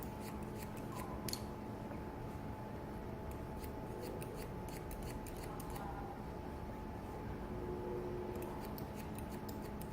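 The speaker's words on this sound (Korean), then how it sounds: "이렇게 손을 대고 그냥 잘라주세요." Scissors snip straight across a young girl's shoulder-length hair at home, a close run of quick, faint metallic cuts ticking steadily over a quiet background with no talking.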